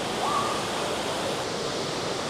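Waterfall and river water rushing in South Wales: a loud, steady, broadband roar of falling and flowing water that continues without a break.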